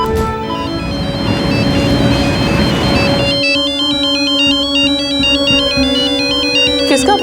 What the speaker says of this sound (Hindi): किसका फोन है जी?